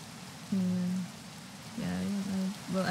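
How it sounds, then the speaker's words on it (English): Steady rain hisses throughout as a continuous broadband wash, with a few brief tonal sounds rising over it in short bursts. "I cannot hear you with the rain."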